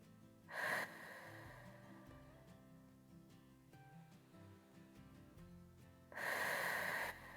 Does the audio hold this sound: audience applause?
no